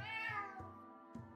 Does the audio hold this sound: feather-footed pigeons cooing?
no